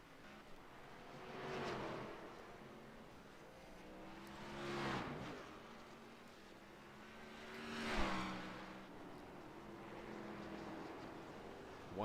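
Race car in an Xfinity Series racing video game pulling into its pit stall, engine sweeping past in repeated surges and a louder pass near the end over steady motor drone.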